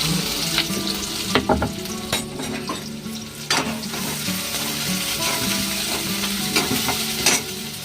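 Onion sizzles in oil in a kadhai for a dried bombil fish masala, with a constant loud fry and frequent scraping stirs and light utensil knocks against the pan.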